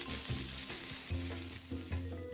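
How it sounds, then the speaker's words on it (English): Meat sizzling on a grill, a steady close frying hiss with crackles and a low background hum running throughout, no voices. "I could hear the sound of meat sizzling on the grill"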